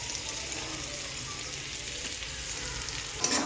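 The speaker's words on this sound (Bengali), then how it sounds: "মশলাটাকে ভালো করে কষিয়ে নেবো" Ginger and cumin paste fries in a pan with a steady, close sizzle that crackles continuously, with a brief louder pop near the end and no voices.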